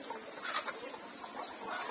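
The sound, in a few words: ducks in a yard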